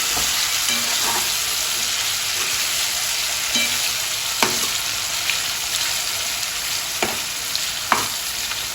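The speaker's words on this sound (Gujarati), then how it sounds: "હવે આપણે એને ફ્રાય કરી લઈશું. તેને મીડિયમ ફ્લેમ ઉપર ફ્રાય કરવાની છે." Marinated paneer shallow-fries in a pan over a medium flame with a constant, dense sizzle. Soft spatula scrapes and taps now and then sit close over the hiss, and no one talks.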